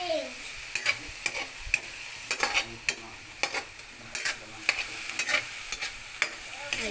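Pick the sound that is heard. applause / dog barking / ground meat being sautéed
ground meat being sautéed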